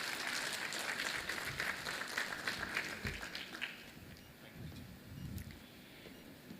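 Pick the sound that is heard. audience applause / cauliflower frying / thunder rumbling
audience applause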